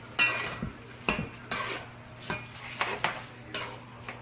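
Irregular scraping and clinking of a utensil against a metal pot while stirring rice, about ten stirring strokes with short pauses, close by and without speech.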